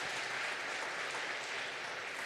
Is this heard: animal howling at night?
no